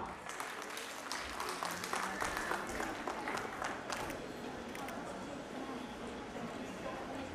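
An audience at a college fashion show, Fashionista 2023 at Hans Raj Mahila Maha Vidyalaya in Jalandhar, applauds a teacher. Soft, steady applause of many hands lasts several seconds and fades slightly, with chatter mixed in.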